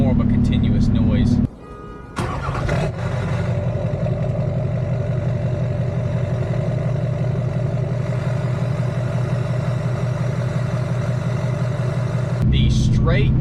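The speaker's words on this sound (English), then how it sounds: "when you're idling, it has a lot more chop to it" A truck engine with a stack tip exhaust idles with a lumpy, choppy exhaust note, steady and close, after a brief burst of revving and a short pause.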